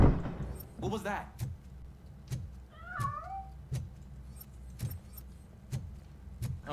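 A cat meows up close in the game Robocop R.C., a single rising and falling call near the middle, surrounded by regular sharp mechanical clicks, jangling metal and a low ambient rumble.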